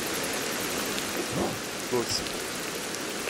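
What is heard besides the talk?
rain falling in video game Ancestors: The Humankind Odyssey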